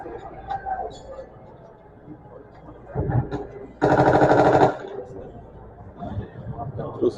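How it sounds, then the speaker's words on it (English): An MG-42 machine gun fires in a museum simulator, one rapid sustained burst of roughly a second, loud and harsh, set amid indoor crowd chatter and rumbling ambience. "MG-42."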